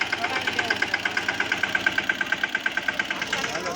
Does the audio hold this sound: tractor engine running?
yes